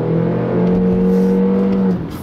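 A 2019 compact SUV with a CVT transmission accelerating, its engine holding a steady droning hum at nearly constant pitch from inside the cabin before easing off at the end.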